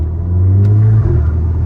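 A Stage 3 VW Golf MK6 GTI with a turbo and a 3-inch turbo-back Cobra exhaust gives a loud, deep, close-up rumble that swells briefly as it revs, then settles into a steady drone.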